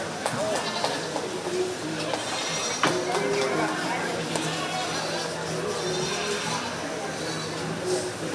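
Breeding meat goats in a county fair 4-H goat show ring, bleating now and then amid a busy, steady crowd murmur and people talking throughout.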